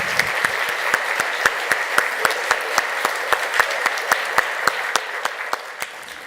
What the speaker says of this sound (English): One more round of applause and then I'll give you the marks.